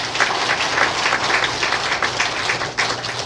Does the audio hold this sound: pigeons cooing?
no